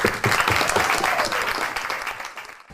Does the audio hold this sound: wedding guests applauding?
yes